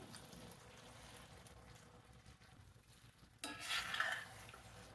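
Whisked curd goes into a pan of bhindi masala with soft stirring scrapes, then a sudden brief burst of sizzling as it hits the hot pan; the whole thing is quiet and close.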